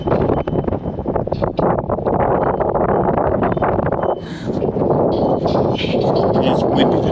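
Steady, loud wind roaring across the microphone at Grandfather Mountain's Mile High Swinging Bridge, with a constant rush and buffeting, a brief lull midway, then gusting back up.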